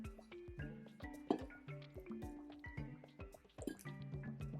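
Water splashes and drips in quick, irregular bursts, with small wet plinks and trickles close by, as it is poured gently onto potting soil around a repotted snake plant.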